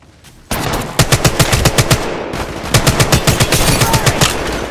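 Rapid automatic gunfire in the Apex Legends video game, two loud sustained bursts of evenly spaced shots separated by a brief pause, close and dominant.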